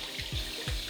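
Concrete pieces rinsed under running water at a kitchen sink in a small home studio, a soft steady splash with a few brief surges, close and alone.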